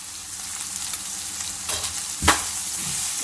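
Coriander powder and partly cooked ingredients frying in a pan for vermicelli pulao, a steady close sizzle with stirring scrapes and one sharp clatter of a spoon or lid partway through.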